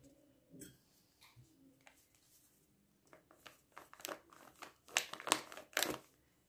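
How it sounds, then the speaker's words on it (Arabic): Dry bay leaves crinkle and rustle as they are added to a few spoonfuls of starch, starting with faint handling noises and building into several louder, crisp bursts of crackling near the end, with no talking. "كنبداو نضيفوا ليهم كميه من اوراق الغار"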